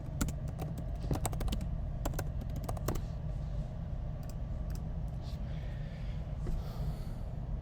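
Keyboard typing in scattered bursts of sharp clicks, fairly close, over a steady low hum of room noise, with no talking.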